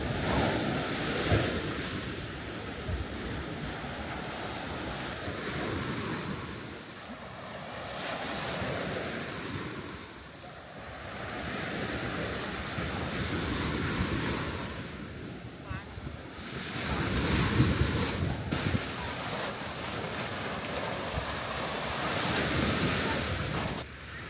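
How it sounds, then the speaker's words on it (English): Waves wash onto a beach on Koh Larn island, Thailand, in a steady broad roar with slow surges, mixed with wind buffeting the microphone and no talk. "Well, it's certainly a lovely beach"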